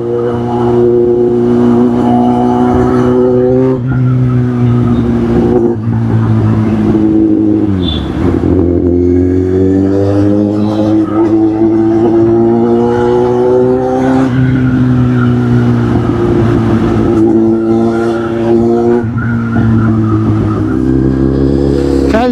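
A car engine drones steadily through a drive, its pitch rising and falling with gear changes and a sharp dip near the middle, loud and continuous with no talking.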